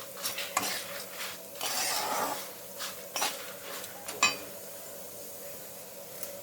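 Black urad dal is dry-roasted in a pan with salt and tamarind, heard as scattered spoon scrapes and metallic clinks against the pan along with a soft, intermittent rustle of grains being stirred, close but quiet.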